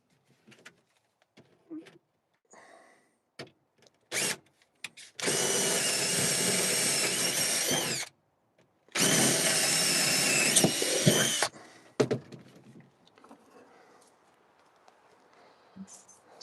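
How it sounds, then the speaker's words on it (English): A power drill bores holes in two bursts, each loud and steady for about three seconds, with a short pause between them and quieter handling noises before and after, inside a cabin. "so I'll just drill those two places out there."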